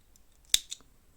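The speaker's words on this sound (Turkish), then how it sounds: "İplerimizi düzgün gizlediğimiz için böyle makasla tam kökünden" A single crisp scissors snip, close and sharp, trimming crochet yarn ends at the root, followed by a faint second click in otherwise quiet surroundings.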